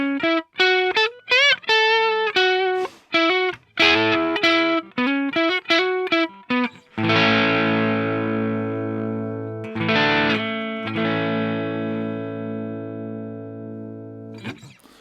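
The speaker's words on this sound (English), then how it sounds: "So that's with the distortion just below 9 o'clock." Electric guitar on its neck pickup played through a ProCo Rat 2 distortion pedal at low gain: quick picked notes and short chord stabs, then sustained ringing chords that decay, loud and close with no talking.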